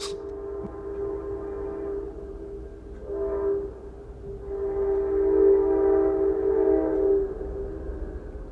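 A passing train sounds its horn in long, loud, sustained blasts that rise and fall over a constant low rumble of the rail cars.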